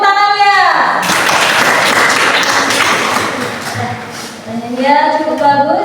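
Students clap together in a classroom, a loud burst of applause lasting a few seconds, with children's voices before it and rising again as it fades.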